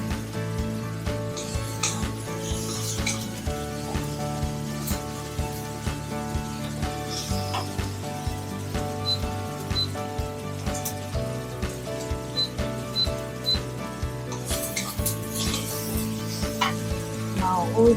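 Food fries in a pan with only a little oil, giving a steady crackling sizzle with scattered pops and stirring clatter over a low background hum, close and continuous.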